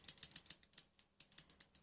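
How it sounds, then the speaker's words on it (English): Small, very clicky micro switches meant for a Nerf blaster are pressed repeatedly, producing a quick, slightly irregular run of crisp, faint clicks close up. "the usual go-to is these kind of very clicky..."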